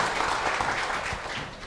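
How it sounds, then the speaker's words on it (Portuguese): Audience clapping at a community meeting session, a dense, continuous round of applause at moderate level with no talk over it. "Uma salva de palmas"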